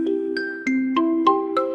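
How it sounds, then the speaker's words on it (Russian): Bright ice cream van bell chimes within a cheerful children's song, a run of about six ringing bell notes evenly spaced over sustained tones, clear and close, with no singing over them. "Маленький фургончик с мороженым зазвенел."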